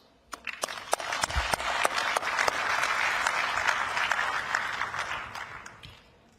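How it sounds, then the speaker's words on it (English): Sustained audience applause at a ministerial hydrogen energy day event, swelling from a few sharp claps into dense, steady clapping that fades out toward the end, with no voices over it. "I would like to take this opportunity to thank them with a big round of applause"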